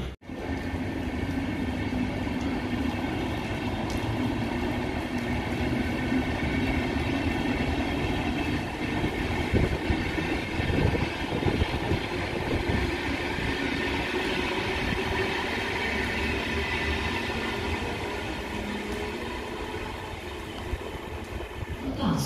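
A train from Ystad rolls into a Swedish station with a long, steady rumble and clatter of wheels, slowly easing off toward the end.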